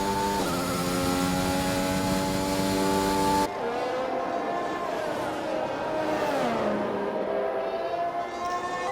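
A Formula 1 car engine in F1 2021 at the Brazil circuit, revving high and loud with sweeping pitch rises and drops as the throttle is worked through uphill right-hand corners, heard alone without talk.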